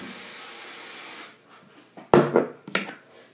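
Mega Volume hairspray sprayed onto hair during a cheer hairstyle, one long steady close hiss lasting over a second, followed by softer brushing and handling noises.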